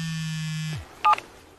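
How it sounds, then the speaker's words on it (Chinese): A mobile phone rings as a sound effect in a Chinese crime-thriller audiobook: a steady buzzy electronic tone holds for under a second and cuts off, followed by a brief bright beep, with no voices. "手机响了。"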